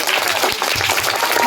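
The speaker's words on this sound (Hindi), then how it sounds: "सारे बच्चे अपने लिए एक बार ताली बजाएं।" Children in a madrasa program clapping for themselves: a brief, dense burst of many small hands clapping together, loud and even, with a few voices mixed in.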